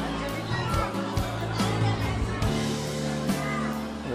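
A dense crowd murmurs at the gate of the Sanwariya Seth temple in Chittorgarh, Rajasthan, with a steady wash of mixed voices and nearby chatter, with occasional louder thumps and shuffles close by.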